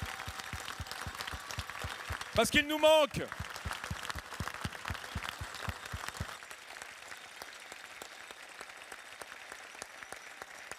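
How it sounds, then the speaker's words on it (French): An awards ceremony audience applauds in tribute to chef Serge Vieira with steady clapping for about six seconds that then fades out. A voice speaks over it, and a brief musical or electronic tone sounds partway through. "Je veux qu'on pense à Serge Vieira et qu'on l'applaudisse tous ensemble pour l'œuvre accomplie"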